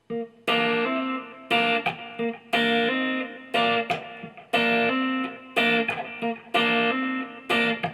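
A slow electric guitar phrase from a song, played as a lesson in clean, separate bursts of notes, closing with a slapped note; the guitar rings out alone, close and fairly loud.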